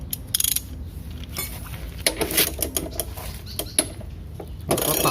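Ratchet wrench cranking a car's built-in jack, giving rapid bursts of metallic clicking with short pauses between turns, close and fairly loud.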